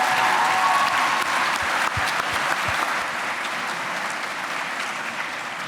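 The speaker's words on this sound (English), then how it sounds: "How about a round of applause for Helen Muskidze?" An audience gives sustained, dense applause for Helen Muskidze at a leadership event, loud and steady throughout and slowly tapering slightly toward the end, with no speech over it.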